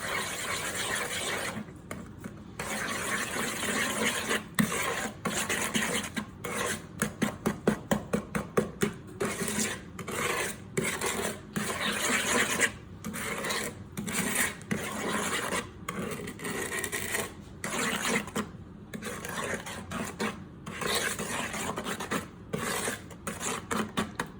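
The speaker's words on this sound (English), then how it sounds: "And then with that spatula, I'm gonna just mix this until it's fully combined." Cookie dough being stirred with a spatula in a bowl, a steady run of rhythmic scraping and rubbing strokes, close and fairly quiet, with no voices.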